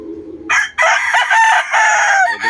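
Loud, close crowing from a ten-month-old Mayahin gamefowl rooster, one long strained cock-a-doodle-doo broken into several sustained harmonic segments after a low murmur, with no voices over it.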